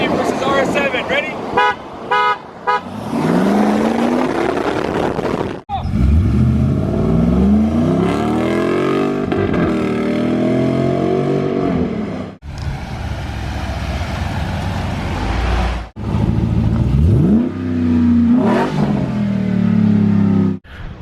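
A 6.4 Hemi-swapped Jeep Gladiator and an Audi RS7 race off-road, with loud engines revving, rising through gears in repeated sweeps, cut into sections, beginning with a few horn toots.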